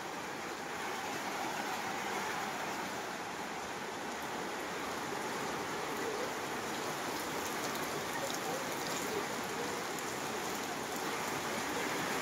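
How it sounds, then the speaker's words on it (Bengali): Steady rain falls outside a village house during a power cut, a soft continuous patter on the ground and surfaces nearby, moderately faint and unbroken. "কারেন্ট নাই, কারেন্ট চলে গেছে, আর এগুলা বৃষ্টিতে ভিজতেছে।"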